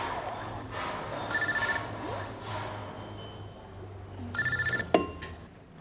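A mobile phone rings in two bursts of electronic trilling tones, fairly loud and near, in an indoor film scene with a thud after the second ring.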